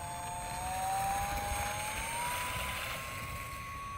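Horizon Hobby Cessna 182 UMX RC plane with a flaps mod taking off: a small electric motor whines steadily, its pitch rising slowly, with faint wind and ground noise underneath and no talking.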